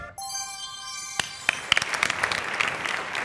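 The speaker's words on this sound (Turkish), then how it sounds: "Evet alkışlamayı bırakıyoruz" Studio audience applause on a Turkish family game show, a bright chime ringing out first before clapping builds into a steady, close patter.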